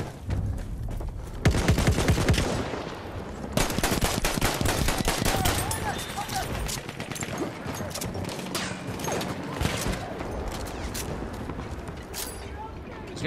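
Gunfire in the multiplayer shooter Battlefield 1, sustained rattling automatic fire and scattered shots from nearby with crashing impacts, continuous and busy, with speech mixed underneath.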